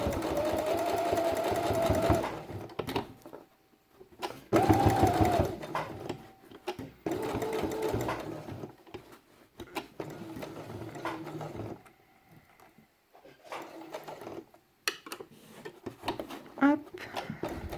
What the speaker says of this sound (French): Sur les parties fines, vous n'hésitez pas à revenir sur votre piqûre précédente.